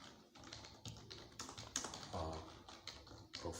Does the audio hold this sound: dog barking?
no